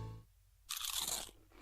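A crisp tortilla nacho chip is bitten, giving one sharp, loud, close crunch that rings out briefly after a moment of near silence, with a small trailing crackle.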